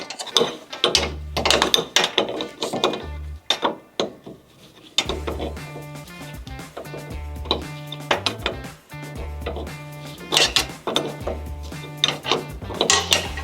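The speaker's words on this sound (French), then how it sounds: "je vais commencer par défaire bien sûr les écrous de l'amortisseur de direction" A wrench ratchets on the nuts of a car steering damper, giving repeated close clicking bursts of pawl clicks with short pauses and metallic clinks in between.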